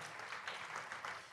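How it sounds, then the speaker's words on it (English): A conference audience applauds the sponsors of FEMAC, a faint, distant, even wash of clapping that holds steady without any voices. "Please give them all a big round of applause for making FEMAC possible."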